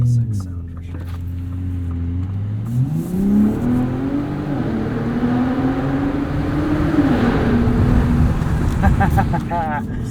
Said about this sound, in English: this is more traditional V6 sound for sure.